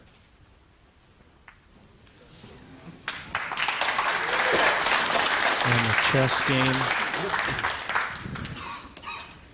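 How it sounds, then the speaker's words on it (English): An audience at a USA vs Philippines World Cup of Pool final claps after a straight-in shot, applause swelling from quiet into sustained clapping and then fading, with someone speaking briefly near the start. "He made a straight in and everybody clapped."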